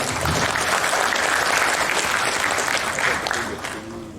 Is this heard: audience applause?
yes